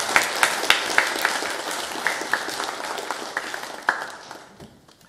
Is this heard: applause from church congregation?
yes